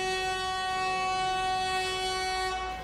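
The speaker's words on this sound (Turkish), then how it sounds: "Kazlıçeşme istasyonuna banyo hattının kornasını çalarak girdi." A train horn sounds as the train enters Kazlıçeşme station on the 140-year-old Kazlıçeşme–Sirkeci rail line in Istanbul. It is one loud, steady, sustained blast lasting almost three seconds, with no voices.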